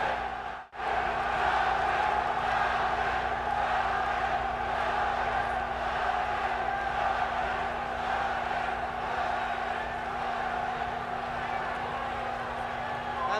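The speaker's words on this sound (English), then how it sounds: "This Swiss crowd really chanting and going crazy with the possibility, anyway, that the German could win." A boxing crowd in Switzerland, at a Muhammad Ali versus Jurgen Blin bout, keeps up a steady, loud roar of chanting and cheering throughout, with a commentator's voice heard over it.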